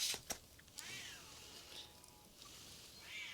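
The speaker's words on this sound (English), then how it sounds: "can you guys hear that cat now?" A cat meows several times in the background of an indoor room, faint and distant, with a few small clicks and taps nearby.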